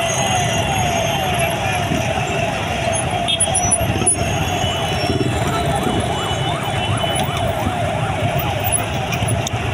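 Ambulance sirens wail over heavy street noise in Kathmandu during a large crowd event: a wavering siren rises and falls steadily through the middle and end, partly masked by constant traffic and crowd rumble.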